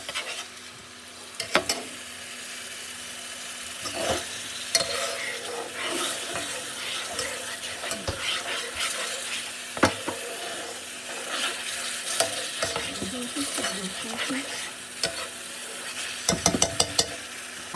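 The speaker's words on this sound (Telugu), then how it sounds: "సో మీరు కొంచెం ఆయిల్లో ఫ్రై అవ్వండి మంచిగా" Onion paste fries in oil in a pan for a crab curry, with a steady sizzle under repeated scraping stirs and occasional sharp clinks of a utensil on the pan; no one speaks.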